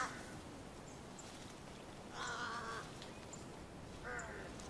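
Excited crows caw in three harsh bursts from a distance in a Komodo island landscape, with quieter calls between them over a steady background hiss.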